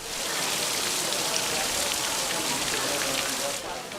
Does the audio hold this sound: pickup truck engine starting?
no